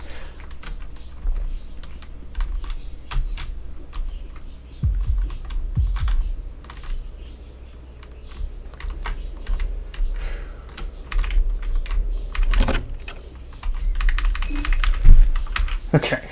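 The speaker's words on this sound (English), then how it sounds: "It's a very loud keyboard." A loud computer keyboard clatters in bursts of rapid key taps during a Fear and Hunger 2 Termina game session, with pauses between runs and a voice talking faintly at times.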